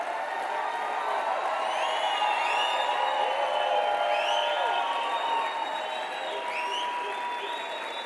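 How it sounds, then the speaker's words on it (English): A large audience applauds at length, with sustained, dense clapping, whoops and cheers rising above it, and whistles sliding through the sound. "The applause was a little long."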